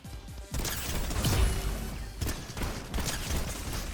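Gunfire in Fortnite from an 8-shot pump shotgun, with dense bursts of blasts, crashes and clattering game mechanisms, loud and close, repeating through the clip without voices.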